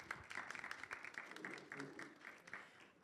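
Audience applause for a speaker at an academic launch event, a steady patter of many hands clapping at a distance, fairly faint, lasting the whole few seconds.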